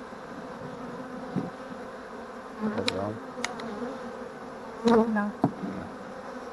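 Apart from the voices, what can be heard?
honey bees buzzing around a hive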